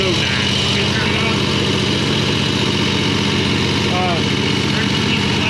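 A small 22 HP V-twin go-kart engine idles loudly and steadily nearby indoors over a concrete floor, a rapid low chugging throb, with voices speaking briefly over it.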